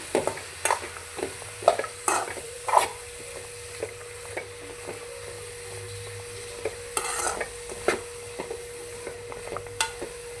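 Grated coconut heated and stirred in a pan for goat head and leg curry, a soft sizzle under frequent scraping strokes of a spoon, close by and fairly loud, with no voices.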